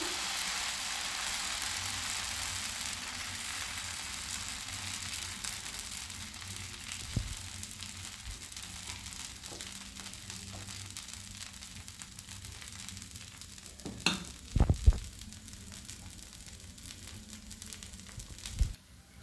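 Masala dosa batter sizzling with a little oil on a hot pan: a steady frying hiss, strongest at first and slowly easing, broken by a few close clanks near the end.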